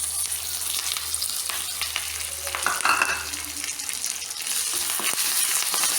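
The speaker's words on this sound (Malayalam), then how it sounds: "ഇനി നമ്മൾ എടുത്തു വെച്ചിരിക്കുന്ന കരിവേപ്പില ചേർക്കുക" Curry leaves crackle and sizzle in hot oil, a continuous close frying hiss with scattered sharp pops and faint stirring, no voices.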